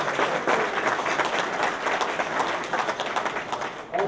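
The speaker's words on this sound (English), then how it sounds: "Round of applause." A crowd at a UTEP event applauds, with loud, close, dense clapping that stays sustained and slightly uneven throughout, fading a little near the end.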